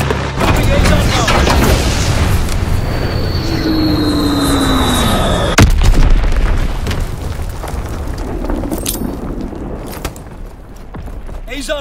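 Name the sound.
Azon bomb bombing run explosions in Call of Duty WWII video game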